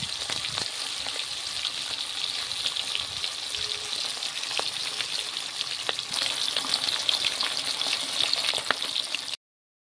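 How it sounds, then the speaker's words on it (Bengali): Hilsa fish pieces fry in hot oil in a pan, giving a steady, close crackling sizzle with scattered pops and faint utensil touches, no talking, until it cuts off abruptly near the end. "সব মাছগুলি দেবো না, দুবার ধরে ভেজে নেব।"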